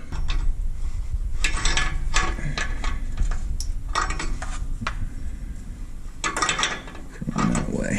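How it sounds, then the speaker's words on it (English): A wrench ratchets while a catalytic converter is installed on a 2003 Toyota Matrix, giving close, repeated metallic clicks and clanks in uneven bursts amid workshop rattle. "Let me grab the wrench."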